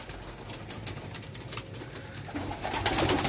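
Pigeons kept by a hobbyist coo softly and repeatedly, with fluttering and rustling close by in a busy outdoor loft, the sounds growing slightly louder toward the end.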